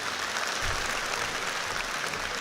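At a comedy show, an audience claps in a dense, steady burst of applause that stays even and loud throughout, with no voices standing out.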